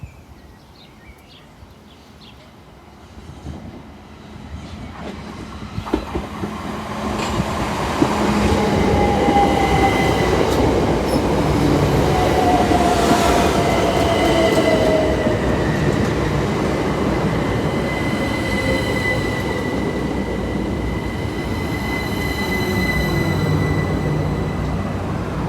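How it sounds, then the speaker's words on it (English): A Southeastern passenger train running from Charing Cross to Maidstone East approaches and passes through a station, its rumble building from distant to loud and near, with faint wheel squeal and steady rolling noise sustained as it runs by. "now approaching is the 1117 Southeastern service from Charing Cross to Maidstone East."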